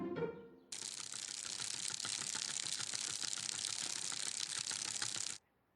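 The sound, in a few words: bicycle wheels spinning, sound effect in guessing game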